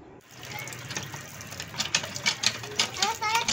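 A newly installed hand water pump in a Pakistani residential colony is worked by hand, giving a rhythmic metallic squeak and clank with splashing water, while people talk nearby.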